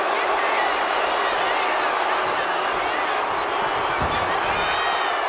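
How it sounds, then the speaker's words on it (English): A wrestling arena crowd in the WWE 2K25 video game keeps up a constant roar of cheering and babble, with a thud near the end, running beneath continuous play-by-play commentary. "And Austin is firing up the crowd here."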